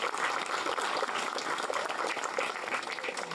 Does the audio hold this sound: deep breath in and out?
no